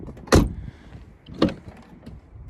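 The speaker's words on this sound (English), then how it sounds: "But I want to try to get this door off now." Metal door of a junkyard car being worked on for removal, destined for a VW Passat B5, with two sharp clunks about a second apart over quiet rattling and handling noise.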